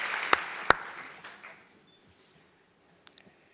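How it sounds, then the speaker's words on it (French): Applause for a candidate at an MT180 thesis-presentation competition dies away within the first second and a half, with a couple of sharp clicks inside it and a few more isolated clicks after a quiet gap. "On peut l'applaudir."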